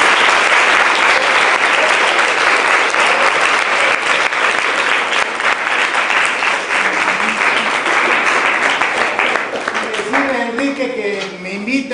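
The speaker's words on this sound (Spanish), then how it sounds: "pueden aplaudirme si quieren" Loud, sustained applause from a seated audience at a talk on crime in Mexico, dense clapping filling the whole stretch, with a few voices rising over it as it starts to fade near the end.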